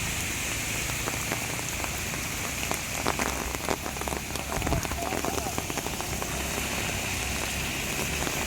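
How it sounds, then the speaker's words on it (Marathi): Heavy rain falls steadily on a road at Siolim, a dense continuous hiss with scattered close drops pattering and splashing, a faint engine hum low in the background. "भर पावसान 2 दीस कंटिन्युअसली पावस चालू आसा"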